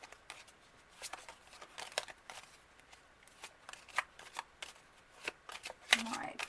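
Oracle cards being shuffled by hand, a series of quiet, crisp riffles and flicks in irregular bursts, close and soft with a brief faint voice near the end.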